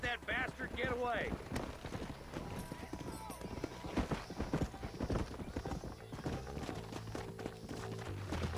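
A horse in the Red Dead Redemption video game whinnies loudly near the start, then hooves clip-clop in a fast gallop throughout, under voices talking.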